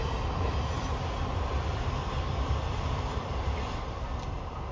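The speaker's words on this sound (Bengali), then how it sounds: "যাচ্ছে ট্রেন।" A train passes by in a steady, continuous rumble and clatter of wheels on rails, moderately distant and fairly quiet throughout, with no voices heard.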